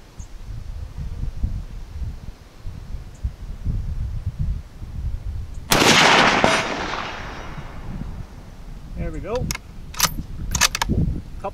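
Savage Axis XP .308 hunting rifle firing at steel targets outdoors, one sharp loud shot with a decaying boom, followed a few seconds later by several fainter metallic rings and clanks.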